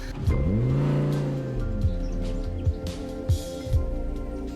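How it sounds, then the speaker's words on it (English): An Audi convertible supercar accelerates with a rising, revving engine note that sweeps up then settles, followed by a few sharp thumps, heard close and without talk. "now we're going to see how it's affected by her driving the Audi"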